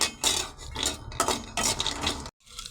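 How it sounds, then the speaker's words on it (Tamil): Cashews and almonds being dry-roasted and stirred in a hot pan, with scraping and rattling swishes in several close bursts and a brief pause near the end, without any talk. "அடுத்ததான் முந்திரி பாதாம் ரெண்டு ஆட் பண்ணி ஒட்டுக்கவே நல்லா வறுத்து எடுத்துக்கலாங்க"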